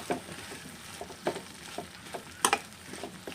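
A spoon stirs mushroom masala curry in a pan. It makes faint, irregular scrapes and clinks over a low background hiss, with one sharper clatter partway through.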